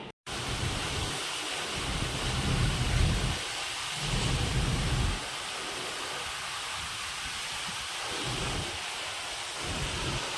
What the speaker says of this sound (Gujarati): અહીંયા તો થોડોક વધારે જ વરસાદ ને થોડોક વધારે જ પવન છે